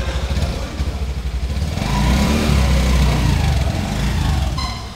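A Honda Dio 125 H Smart scooter engine starts up and settles into a steady, close idle, with a low rumbling putter that swells slightly after the first couple of seconds and holds without any talking.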